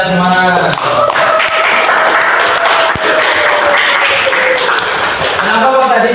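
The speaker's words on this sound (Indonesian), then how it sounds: "beri tepuk tangan untuk kita semua." Classroom applause from a group of students fills the room, a dense, loud clatter of clapping that carries on steadily with some voices mixed in.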